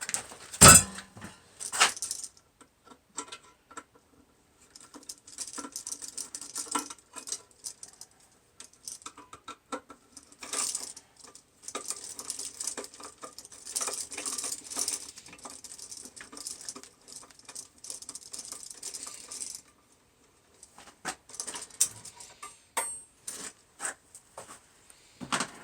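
Screws being removed from mulberry covers, with small clicking, scraping and tapping of metal parts and handling noises in irregular bursts over a quiet background.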